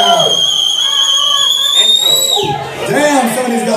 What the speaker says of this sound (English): somebody's got a whistle out there